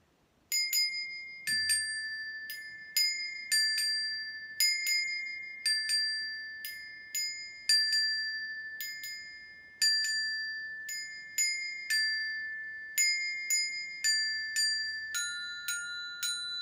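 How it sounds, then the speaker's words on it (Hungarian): Bright church bell tones strike one after another in a steady, unhurried rhythm, each ringing out and fading before the next, clear and alone. "Hallgassuk is meg, hogy hogy szólnak a templomban a harangok"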